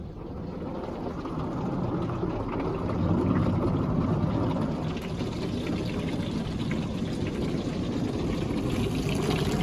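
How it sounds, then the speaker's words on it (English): Steady, heavy rush of water pouring and splashing continuously from the waterfall cascade of a Ryko Softgloss Maxx 5 automatic car wash at a Shell station, a dense broadband wash with a low mechanical rumble beneath, no voices. "Now it's gonna do the waterfall effect."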